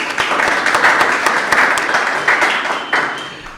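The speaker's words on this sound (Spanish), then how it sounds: "Un fuerte aplauso para ella," Audience at a sample class and debate in a seminary lecture setting claps warmly, with steady, fairly loud applause of many hands and a few sharper individual claps standing out.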